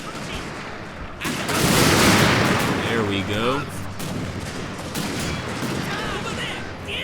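Cannon and rifle volleys thunder across a battlefield in the strategy game Shogun 2: Fall of the Samurai, a loud sustained burst of booming fire followed by scattered shots under chirping game sounds, with someone talking briefly.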